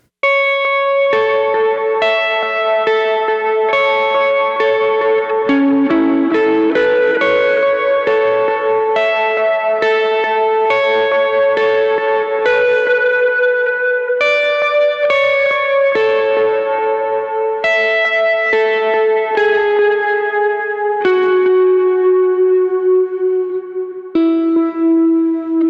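Lead electric guitar plays the chorus riff of a worship song alone, a steady run of clear picked notes soaked in echo, chorus and reverb, moving from start to finish without rhythm backing.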